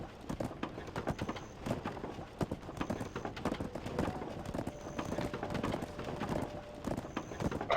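Horse hooves in the online game Black Desert, a rapid running clip-clop of hoofbeats, continuous and fairly quiet, with brief chiming game effects recurring over the galloping rhythm.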